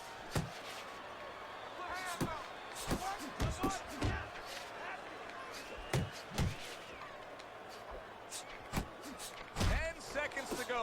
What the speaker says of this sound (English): Targeting that head with the combination punching.